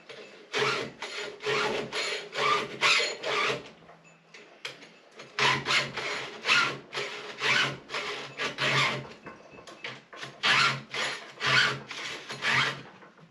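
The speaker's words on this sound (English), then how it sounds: "got the chainsaw nice and sharp" Repeated rasping strokes of a file sharpening a chainsaw chain, steady back-and-forth scraping in bursts with a brief pause midway, close and fairly loud.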